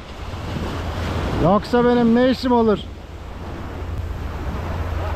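Sea surf breaks and washes along the shore during shore fishing for bluefish, loud and steady throughout, with a voice speaking over it midway.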